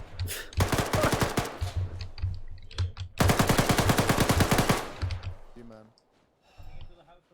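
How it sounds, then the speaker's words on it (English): A heavy gun fires in a military ArmA battle, in two long, rapid, rattling bursts, loud and close, followed by a few scattered faint clicks. "there's some kind of like big gun off to the west"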